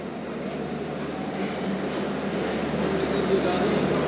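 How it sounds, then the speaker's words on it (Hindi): Zakariya Express pulling into a station, a steady low rumble of rolling stock building slightly over several seconds, with faint voices in the background. "25 ज़िक्रिया एक्सप्रेस इंटर हो रही है"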